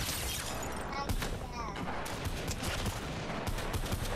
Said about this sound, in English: four people shooting over here